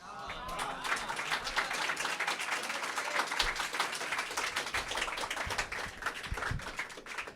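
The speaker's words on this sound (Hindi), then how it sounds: "क्या बात, एक बार फिर से तालियां" Sustained crowd applause and clapping from an audience at a Hindi poetry open mic after a poem, steady and fairly loud throughout with dense overlapping claps and no clear speech.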